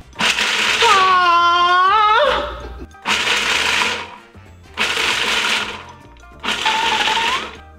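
A food processor grinding nuts into nut butter runs in four separate loud bursts, the first with a rising and falling whine, each burst separated by a short pause.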